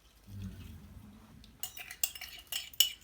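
A spoon stirs sugar into warmed milk in a pot or glass, giving a few sharp, close clinks and scrapes at irregular intervals after a quiet start.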